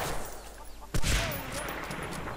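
Gunfire from the video game Medal of Honor Frontline, a single sharp loud shot cracking out about a second in, above a steady background of game ambience.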